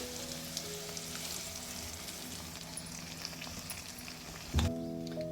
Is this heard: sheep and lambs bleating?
no